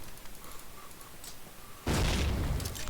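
A grenade goes off in Call of Duty: United Offensive, one sudden loud booming blast partway through that rumbles on to the end after quieter game ambience.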